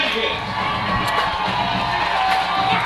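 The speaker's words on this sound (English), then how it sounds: "Crowd coming to life here at Maury Stadium." A stadium crowd at a high school football game at Maury Stadium cheers and whoops steadily, with a dense roar of voices and shouts throughout and an announcer speaking over it.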